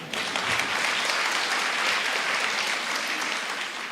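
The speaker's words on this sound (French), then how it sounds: "Attendez, il faut l'applaudir" Lecture audience breaks into sustained applause, a dense, steady patter of many clapping hands filling the hall at close range for the whole stretch, with no voices standing out.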